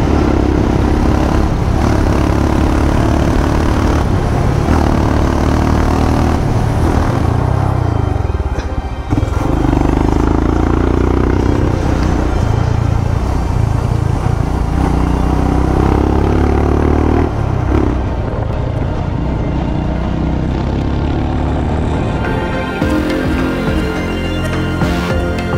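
Motorbike ridden along a coastal road near Puri and Konark in Odisha, its engine droning steadily and close for the whole stretch, with rumbling road and wind noise and no talking.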